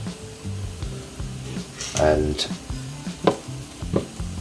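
Peanut butter being stirred gently into boiling water for a Thai-style bowl sauce, with bursts of sizzling, bubbling and scraping around the middle of the stretch, and a voice speaking briefly over it.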